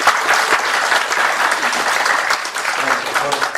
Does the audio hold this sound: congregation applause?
yes